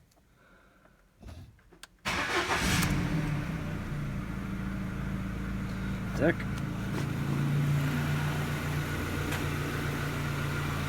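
A Ford Focus 2 engine, freshly rebuilt with new pistons, cranks briefly and catches, then settles into a steady, close idle with a faint ticking texture; someone says a word just before it starts.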